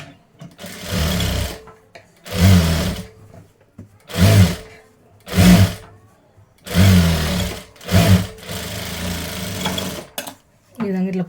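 Sewing machine stitching a blouse, running in six or seven loud bursts of steady whirring separated by short pauses, close up, with no talking.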